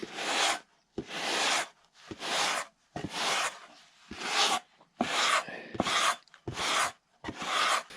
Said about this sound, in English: That's about all there is to it right there. Just sanding.